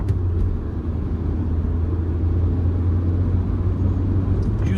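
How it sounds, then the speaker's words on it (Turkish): A Hyundai Getz 1.5 CRDi VGT diesel engine pulls in second gear under half throttle, giving a loud, steady low rumble heard from inside the car with no talking. "İkinci vitesteyim. Yarım basıyorum gaza."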